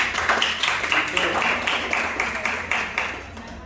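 Applause from an audience at a uniform handover ceremony for the Kalpay group, a steady wash of many hands clapping that swells and holds, fairly close, with faint voices mixed in.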